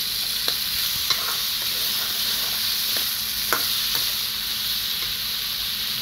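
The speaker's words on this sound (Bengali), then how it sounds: "আমলাগুলোকে আমি তেলের মধ্যে একটু নাড়াচাড়া করে ভেজে নিচ্ছি।" Pieces of amla fry in hot oil while being stirred, a constant, close hissing sizzle broken by a few light taps and scrapes of the spatula against the pan.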